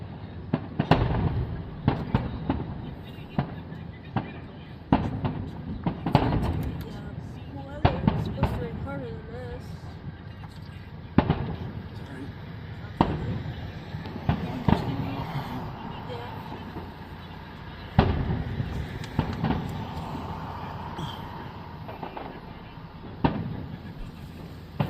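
Fourth of July fireworks boom and crackle at Massillon, Ohio, with repeated sharp bursts at irregular intervals from a distance, while people talk nearby.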